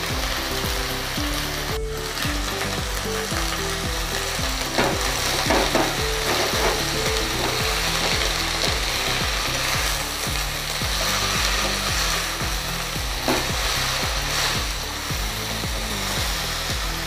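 Fenugreek leaves for a thoran stir-fry sizzle steadily in a hot pan, a continuous loud frying hiss with occasional stirring scrapes, and no voices.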